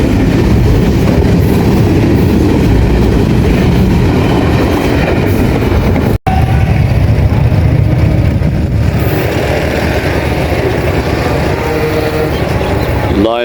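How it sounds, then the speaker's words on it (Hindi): A small train rolls past on a Pakistan Railways line, a loud sustained rumble with rattling wagons and clickety-clack from the rails that holds steady throughout, with a brief cut partway through. "छोटी सी ट्रेन है।"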